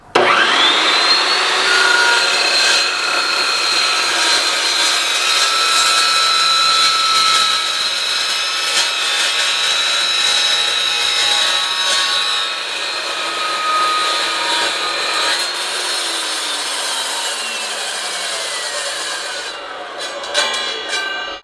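An Evolution Evosaw S380CPS cold saw cuts through 4x2 A500 steel tube 1/8 inch thick, giving a loud, steady, high metallic whine that runs for about twenty seconds before winding down, with no talking.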